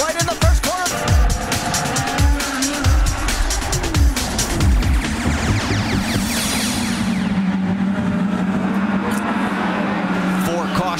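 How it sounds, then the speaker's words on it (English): IndyCar race cars at the St. Petersburg street circuit in 2011 crash in the first corner, with loud, continuous engine roar, tire noise and impact clatter running under an excited race commentator. "We have contact and a huge crash right in the first corner."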